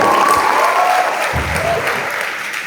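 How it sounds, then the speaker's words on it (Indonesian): Audience applauding loudly and steadily at a youth talk on democracy, a dense wash of clapping that holds for the whole stretch with a faint voice underneath. "bisa beri kasih tepuk tangan"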